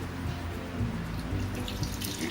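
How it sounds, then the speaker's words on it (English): Water poured from a tap into a bowl of cheese curds while making rosogolla at home, a steady close running splash with no talk. "Now add some water"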